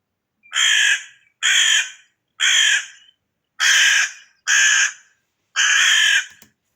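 Recorded crow calls: six loud, harsh caws spaced about a second apart, each a short rasping burst, clear and alone with nothing else in between.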